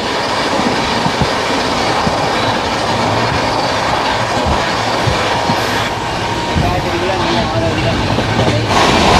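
The Shabd Bhedi Superfast Express passenger train, running from Kolkata toward Varanasi, gives a loud, steady rumble from inside with rhythmic wheel clatter and brief metallic squeals throughout.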